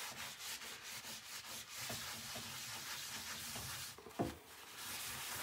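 A dry paper towel wipes excess wax off furniture painted with Silk All-In-One Mineral Paint, making a steady, close, airy rubbing hiss that runs alone throughout with one brief sharper scuff near the end.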